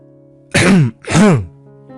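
A man clears his throat to quiet a noisy room before speaking, with two short, forceful rasping bursts close to the listener over a low steady background hum.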